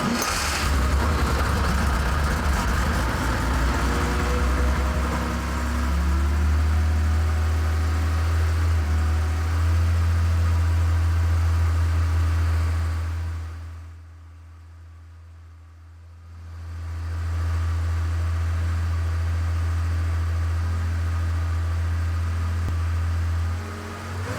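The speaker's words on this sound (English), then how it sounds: "When you go to turn the key and start the engine, what happens? It fires up instantly." A carbureted 1971 Porsche 911T engine idles with a steady low rumble, fades away briefly partway through, then returns to the same even idle.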